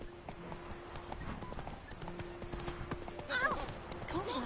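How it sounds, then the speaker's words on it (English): Horse hooves clip-clop steadily on the ground in The Witcher 3 video game, close and fairly quiet, with a brief whinny near the end and game sounds around them. "Whoa there, Roach"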